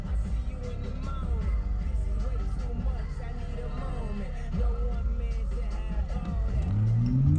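A race car launches at a track, its low engine rumble sitting under a speaking voice before the revs climb sharply near the end.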